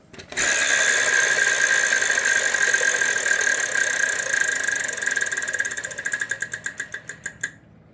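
Wheel of Fortune prize wheel spinning on the game show, a loud rapid clicking rattle that runs steadily and then slows into distinct spaced ticks before stopping.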